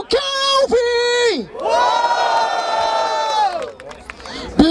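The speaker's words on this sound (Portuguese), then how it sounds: "Barulho para as rimas do Kelvin" A trap-special rap battle crowd in Barueri cheers and whoops after a verse, bursts of shouting rising loudly while a voice calls out over them, the roar swelling in the middle and then dropping back.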